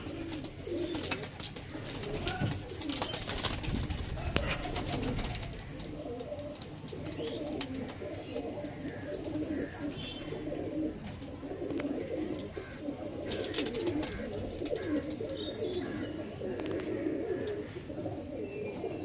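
Pigeons of Punjabi, carrier and Chennai breeds coo steadily in a loft, low repeated throaty calls layered over one another, with occasional wing flutters and light chirps scattered throughout.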